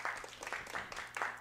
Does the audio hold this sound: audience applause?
yes